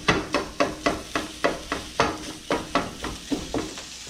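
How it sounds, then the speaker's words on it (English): Sausage sizzling in a hot pan while a spatula chops it up, giving a steady run of about a dozen sharp, regular scraping knocks over a continuous fry hiss. "with the spatula, now that it's got a little bit of heat, you want to chop your sausage up"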